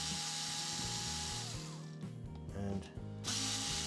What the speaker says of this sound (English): we're going to use our cordless screwdriver with the Phillips bit in the end